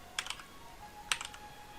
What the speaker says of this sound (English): So we're going to be typing in frame